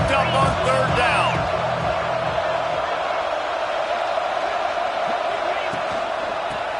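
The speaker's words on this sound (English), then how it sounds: "Crowd getting this defense whipped up on 3rd down." A stadium crowd at a college football game roars loudly to fire up the defense on third down, a broad sustained wall of cheering that swells at first and then settles slightly, with a voice speaking briefly at the start.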